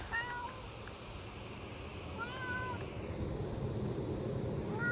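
A talkative pet cat, about eight or nine years old, gives a few short meows, one at the start, one midway and one at the end, fairly faint against a steady outdoor background hum.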